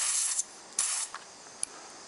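Bursts of pressurized gas hiss out of the pin-pressed inlet valve nozzle on a K-1000 refill. There are three short sprays, separated by faint clicks and quiet gaps, all close and fairly soft.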